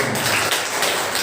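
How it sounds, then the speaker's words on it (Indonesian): Schoolchildren in an Indonesian madrasah classroom clap for a classmate: a dense, steady burst of many hands applauding together, loud and close, filling the whole moment without a break. "Fauzan, kita berikan tepuk tangan."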